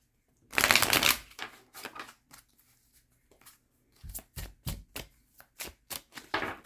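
A deck of cards shuffled twice: a long riffling burst, then after a short pause a series of crisp, rapid card flicks, close and fairly loud.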